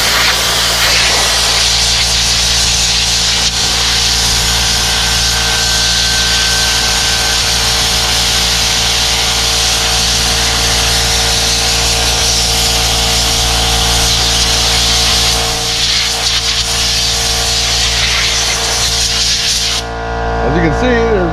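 Compressed air roaring steadily as it blows grass debris off the radiator screen of a Kubota L3301 tractor, a loud continuous hiss that stops abruptly near the end.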